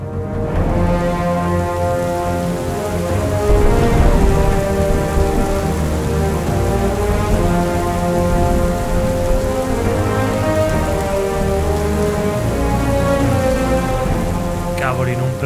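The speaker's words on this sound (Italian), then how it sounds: "Cavoli, non prendevo un acquazzone del genere dai tempi in cui correvo da professionista." Heavy summer downpour with thunder, caught during an Alpine cycling ride, a dense steady roar of rain drumming on surfaces that stays loud and unbroken throughout, with low rumbling underneath.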